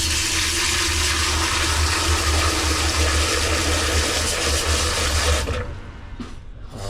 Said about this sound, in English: Some staining in the filter cup as well. We're gonna go ahead and rinse that up